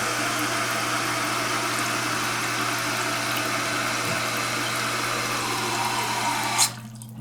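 Water rushes steadily as a toilet tank refills after a valve rebuild, a constant hissing flow with a low hum beneath, ending abruptly as the fill valve shuts off.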